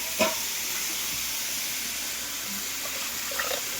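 Water poured into a pot of lentils while making sambar, a steady close hiss and splash running throughout with a couple of brief clinks, no talking.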